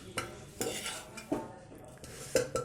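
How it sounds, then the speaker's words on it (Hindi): A spoon stirs drumstick (moringa pod) vegetable curry in an opened pressure cooker, giving several distinct metallic scrapes and clinks against the pot at an irregular pace, close and fairly quiet, with no talking. "सब्जी को चला लेते हैं।"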